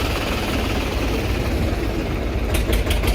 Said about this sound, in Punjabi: ਉਸ ਤੋਂ ਅਗਲਾ ਟਰੈਕਟਰ ਆ ਗਿਆ ਨਿਊ ਹਾਲੈਂਡ 45 10